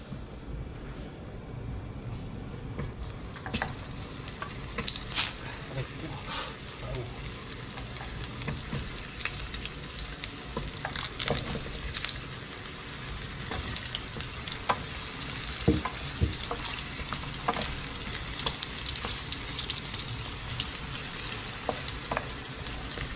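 Potatoes frying in a pan, a steady close sizzle with occasional stirring clatter running throughout, no talking.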